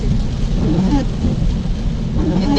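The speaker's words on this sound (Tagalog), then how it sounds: "Kanina pa umuulan" Heavy rain pouring down in Doha, Qatar, a dense, loud, continuous hiss of rainfall with a low rumbling undertone, close and steady throughout with no talk.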